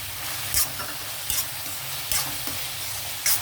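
Shrimp fry in a pan with onions and ginger-garlic paste, giving a steady loud sizzle throughout, with a few brief scraping stirs of a spoon against the pan.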